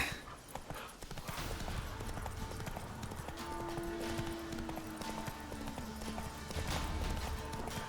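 Quiet, rapid hoofbeats of a galloping horse in the video game The Witcher 3 patter on continuously under a soft, busy background, with a faint tonal hum midway.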